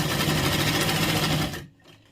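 A sewing machine stitches a six-panel petticoat in a steady, loud, rapid mechanical run that lasts about a second and a half, then stops abruptly and leaves quiet room noise.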